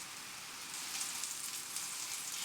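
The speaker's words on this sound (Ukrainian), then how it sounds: "Як тільки розігрілась пательня з олією, викладаю всі тефтельки" Meatballs sizzling in hot oil in a frying pan give a steady, soft hiss and crackle throughout, with no voices.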